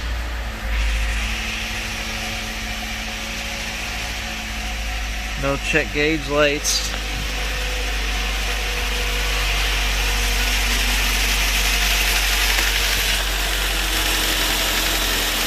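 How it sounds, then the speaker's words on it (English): A used car's engine, just after an oil change, turns over and settles into a steady, low idling rumble, with a brief spoken remark partway through. "Now we can lower the car down and start the engine."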